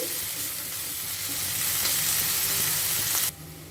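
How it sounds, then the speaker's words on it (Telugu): Sliced onions and curry leaves sizzle loudly in hot oil in a pan for a drumstick curry, a steady close frying hiss that stops abruptly just before the end. "ఇప్పుడు ఈ ఉల్లిపాయ ముక్కల్ని ఒక రెండు నిమిషాలు ఫ్రై చేసుకోవాలి"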